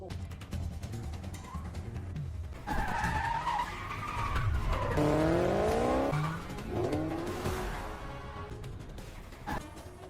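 Car tyres squeal in long skids during a road chase on a highway in a Korean film, with engines roaring and revving loudly around the screeches.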